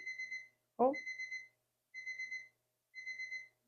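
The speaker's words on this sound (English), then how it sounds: "it's a timer to turn up the kiln." Digital timer for a pottery kiln beeping in repeated bursts of four quick high electronic tones, separated by short pauses, fairly clear and close, with a brief spoken exclamation cutting in between the bursts.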